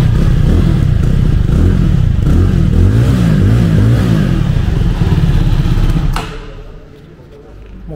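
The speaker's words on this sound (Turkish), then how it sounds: "Motor sesi fena değil." A Benelli TRK 251 motorcycle engine revs loudly and close, its pitch rising and falling in several throttle blips, then cuts off sharply and drops to near quiet.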